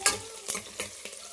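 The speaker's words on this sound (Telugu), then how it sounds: "ఉల్లిపాయ పచ్చిమిర్చి అయితే బాగా వేగింది కదా" Onion and green chilli sizzle in hot oil while a spoon scrapes the pan in four quick strokes over a brief, close, moderately loud moment with no voices.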